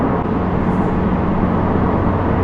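A 2022 Subaru WRX boxer engine with stock exhaust and stock catalytic converter gives a loud, steady, muffled low rumble from inside the car while driving on a mountain pass.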